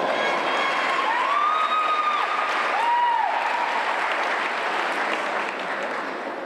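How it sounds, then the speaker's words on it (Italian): Audience applause for a contestant on an Italian TV-style show, loud and sustained for about six seconds, with a few whistles and cheers rising over the clapping before it eases slightly at the end. "Un applauso a Fabio"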